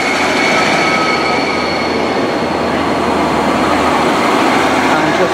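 A Class 153 diesel unit departs Nottingham station, a loud steady rumble and rolling wheel noise with faint high squeals, continuous and close, with a voice briefly mixed in.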